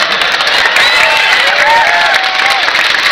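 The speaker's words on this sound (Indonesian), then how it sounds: "Mereka udah mulai tepuk tangan" An audience at a large outdoor Islamic tabligh akbar gathering in Lombok applauds and cheers steadily, with shouts and whoops rising over dense, continuous clapping throughout.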